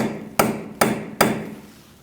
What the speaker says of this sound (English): I'm going to unpeen the nut using a punch and a hammer.